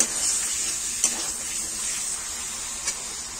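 Pointed gourd sautéing in a pan with sugar, a steady hiss of frying with a couple of brief spoon taps, fairly quiet, with no one speaking.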